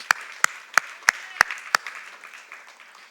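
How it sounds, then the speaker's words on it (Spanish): A church congregation at an Easter Sunday service claps in unison, six sharp, evenly spaced claps ringing out loud, then fading into a soft murmur. "Dale un aplauso al Señor,"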